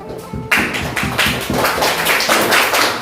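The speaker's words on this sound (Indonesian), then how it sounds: "Beri aplaus dulu untuk temannya yang mau maju." A classroom full of students applauds a classmate, a dense and loud burst of many hands clapping close by that starts abruptly after a brief murmur and keeps going steadily.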